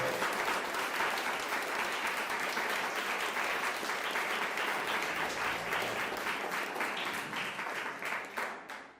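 A church congregation claps in praise during a sermon, a loud, steady wash of applause with rhythmic pulses running nearly nine seconds before tapering off at the end.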